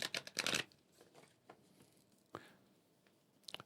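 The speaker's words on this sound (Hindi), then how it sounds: "एक बार और हम इस डेक को शफल करेंगे।" A deck of tarot cards is shuffled in a few quick riffling bursts, loudest at the start, then scattered softer card flicks in a quiet room.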